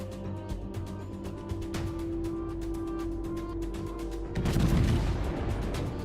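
Battleship gunfire in a naval video game with the Richelieu: rapid rattling shots and a steady engine hum, then a louder rumbling boom near the end.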